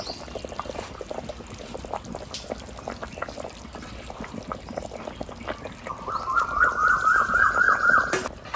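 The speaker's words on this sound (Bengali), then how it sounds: "আলুটা সিদ্ধ হয়ে যাওয়ার পরেতে আমি ভাবা ডিমটা দিয়ে দিচ্ছি" Beaten egg poured into a pan of boiled potatoes with sliced pointed gourd, a gentle bubbling simmer building into a louder liquid pour and sizzle toward the end.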